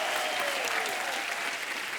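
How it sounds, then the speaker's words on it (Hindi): Steady, dense audience applause at a star-cast appearance in Hindi, loud and continuous for the whole stretch with no voices over it. "एक बार जोरदार तालियां हो जाए"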